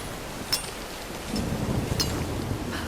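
Rain and rolling thunder from the Tomb Raider video game, a steady rain hiss with a couple of sharp crackles and a low rumble building in the second half, with no talk.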